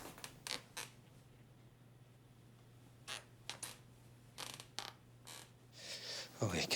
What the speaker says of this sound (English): hate the squeaky floors.